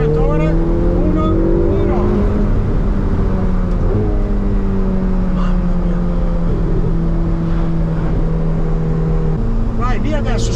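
A Ferrari 488 Pista on a test drive through the hills near Maranello, its engine loud and close as it accelerates hard, pitch climbing through the gears with a brief dip at a shift near the end.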